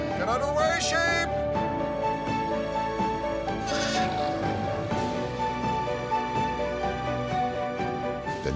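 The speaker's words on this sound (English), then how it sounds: "Get underway, sheep!" A sheep lets out a few bleats right at the start, close and clear, before music carries on alone.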